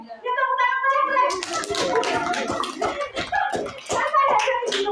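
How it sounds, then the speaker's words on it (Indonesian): Students in a classroom clap for a classmate: a loose patter of hand claps mixed with children's chattering voices, following a short spoken prompt. "Ya tepuk tangan ke Hendrik."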